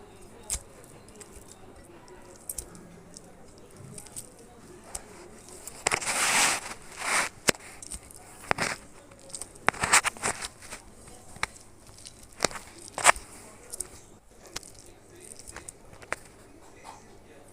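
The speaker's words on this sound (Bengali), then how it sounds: "এবার এগুলোকে মেখে নেব একসাথে।" Mashed onion and garlic being mixed together by hand for a Bengali bhorta, giving soft squishing and sticky patting sounds in irregular bursts, fairly close and moderately quiet over a faint background.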